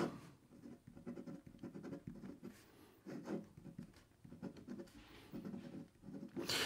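A Namiki fountain pen nib scratches across Odyssey notebook paper in short, steady strokes with brief pauses, a close, faint dry scraping that carries on alone throughout.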